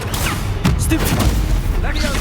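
A Stupefy spell is cast in the Hogwarts Legacy video game, sharp booming impacts and swooshing magical bursts in quick succession amid combat noise, loud and close.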